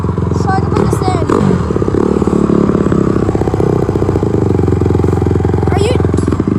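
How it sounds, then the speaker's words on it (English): A dirt bike's engine runs steadily up close, a loud continuous motorcycle drone with a rattly clatter, while people talk over it. "So this is my dirt bike."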